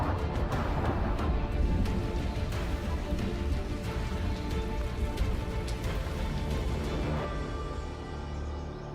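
Heavy monsoon rain falls in a dense, steady patter on surfaces nearby, loud and unbroken, easing slightly toward the end, with no voices.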